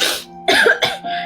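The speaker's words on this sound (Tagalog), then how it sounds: "Naku, inuubo po kayo." A person coughs several times in quick succession, loud and close, with harsh throaty bursts and short pauses between them.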